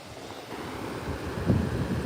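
Steady broadband rush of river water flowing fast beside a bridge outdoors, mixed with low wind buffeting the microphone, continuous and fairly loud with no talking.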